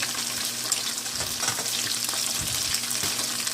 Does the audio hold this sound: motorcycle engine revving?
no